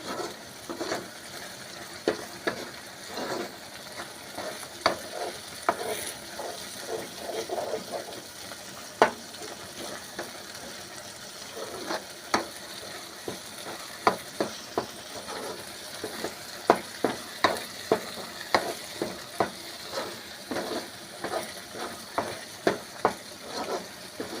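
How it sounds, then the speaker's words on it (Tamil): Chutney fries in oil with a constant hissing sizzle while a spoon stirs it, producing frequent sharp scraping and tapping clicks against the pan, close and fairly loud. "உப்பு போட்டு நல்லா கிளறி விட்டுக்கோங்கப்பா"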